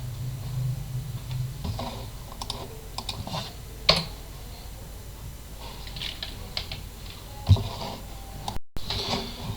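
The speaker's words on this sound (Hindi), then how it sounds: "ये अब यहाँ आपने इसको एंटर प्रेस करना है।" Computer keyboard keys tapped while configuring a Windows Server 2022 system, a few soft clicks and one or two sharper key presses standing out against a quiet room hum, with no talking.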